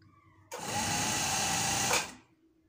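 A sewing machine runs a straight seam on a shirt in one continuous burst of about a second and a half, starting abruptly and winding down, with quiet talk before and after.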